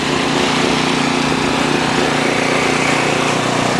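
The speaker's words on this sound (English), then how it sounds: "There's a snowblower." Small engine of a snowblower running steadily on a snowy Manhattan street during a blizzard, a continuous close, loud droning hum with no pauses or talk.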